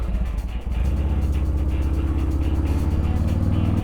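A 2003 Harley-Davidson Sportster 1250, freshly rebuilt top end, idles with a deep loping V-twin rumble, then the rider pulls away and the engine rises into a steady, loud, close throb.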